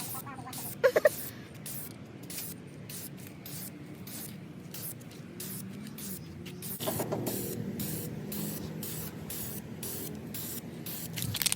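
Primer sprays onto a taped-off car valve cover in a series of short, sharp hissing bursts, close and fairly quiet, with one longer, fuller spray toward the end.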